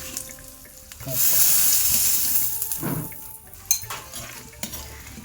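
Peanuts frying in a hot pan on a home stove, giving a loud sizzling rush with scattered sharp pops and crackles that fade to quieter stirring and occasional clicks.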